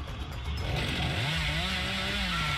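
A chainsaw in the video game Dead by Daylight revs up and holds a loud, rising engine whine with a buzzing roar, continuous for about two seconds, with no talk.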